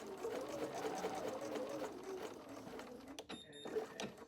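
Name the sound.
sewing machine stitching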